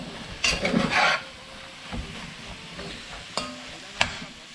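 Chopped onion and garlic cooking in a pot for Cajun gumbo, with a few scraping stirs and soft sizzling, a short rasping burst followed by quieter scrapes and clicks, no voices.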